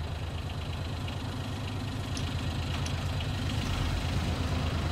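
A John Deere tractor engine idling in a farming game, a steady, continuous low rumble with a faint rhythmic knock throughout and no talking.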